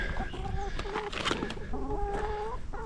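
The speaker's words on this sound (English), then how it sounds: "We've got a runaway chicken." Hens cluck and murmur in an off-grid farm coop, with repeated short tonal calls and soft chatter close by over a busy, rustling background, no talk.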